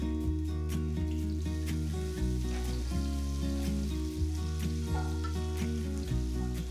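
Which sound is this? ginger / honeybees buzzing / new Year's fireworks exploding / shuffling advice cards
ginger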